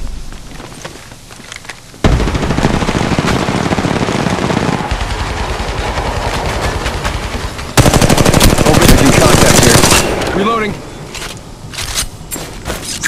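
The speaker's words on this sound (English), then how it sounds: "Shots fired and they're hitting me." Rapid automatic gunfire from Apex Legends Mobile, loud sustained bursts with a brief pause and a second heavier volley, thumps and impacts mixed in, a voice talking faintly underneath.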